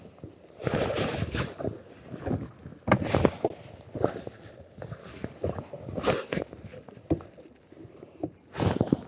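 A boat idles out of a harbour past a pontoon, its low engine rumble steady beneath bursts of wind buffeting the microphone and splashy patter throughout.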